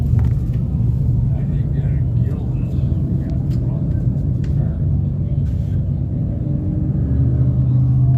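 A 358 modified race car engine rumbles steadily at Can-Am Speedway, a heavy low drone lasting throughout with crowd-distance roar, while an announcer talks over it.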